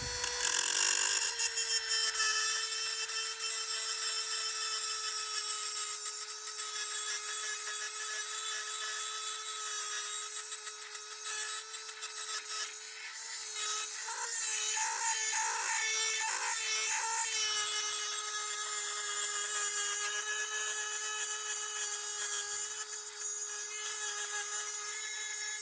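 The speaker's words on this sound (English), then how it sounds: "let's go and get the Dremel" A Dremel rotary tool grinds a metal door latch, a steady high-pitched whine running continuously throughout, with a rougher, pulsing stretch midway as the bit bites into the metal, close and loud with no talking.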